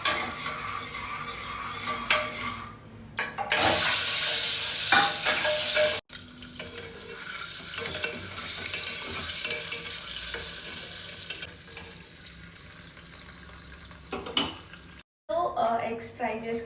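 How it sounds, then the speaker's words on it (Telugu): Eggs with salt and chili powder sizzle and fry in a pan while a spoon stirs and scrapes against the metal, loud hissing bursts alternating with quieter frying, and a brief break near the end. "అండ్ దెన్ సాల్ట్ అండ్ కారం. ఇవన్నీ బాగా మిక్స్ చేసుకొని"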